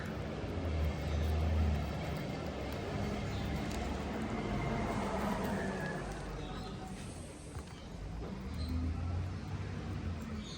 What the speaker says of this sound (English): You can hear the noisy truck